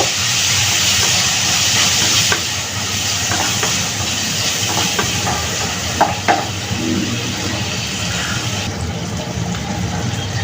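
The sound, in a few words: small shrimp frying in a pan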